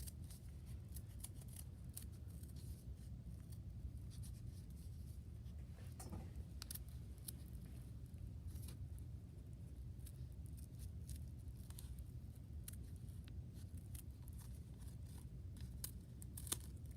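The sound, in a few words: scissors cutting a paper snowflake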